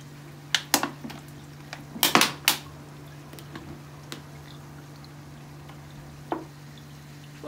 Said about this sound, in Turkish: şimdi içindeki suyunun akabilmesi için şu şekilde süzgeçli bir kaba döküyorum